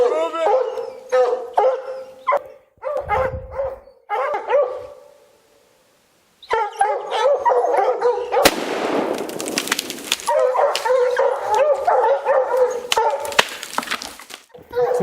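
Hunting dogs on a mountain lion hunt in Montana barking, yipping and howling in dense, overlapping bursts, loud and close, with a brief lull before a sustained chorus resumes.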